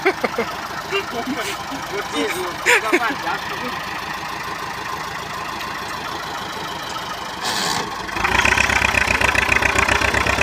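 Farm tractor engine runs steadily while pushing soil, a continuous mid-pitched rumble that grows louder and rougher toward the end, with someone talking over it.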